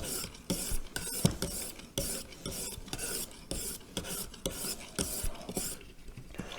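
A grafting knife is drawn across a wet sharpening stone in quick, rhythmic rasping strokes, roughly a dozen short scrapes with brief pauses, close and fairly quiet, with no talking.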